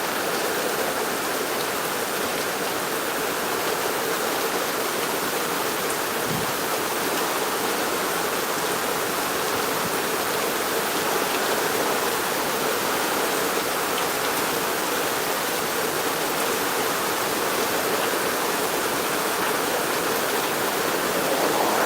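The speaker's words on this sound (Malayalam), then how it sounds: "തകർത്ത് ഇന്നത്തെ മഴ" Heavy March rain pours down in a loud, dense, unbroken roar for over twenty minutes' worth of steady hiss, close and constant, with no talking.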